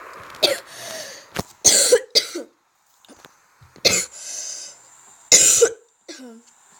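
A person coughs in several separate bursts, some coming in quick pairs, with quiet gaps and a little throat noise between them.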